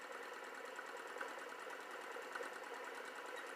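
A homemade Newman motor runs on its own, giving off a steady buzzing, rattling whir with faint knocking pulses. It holds an even, moderately loud level throughout, with no voices.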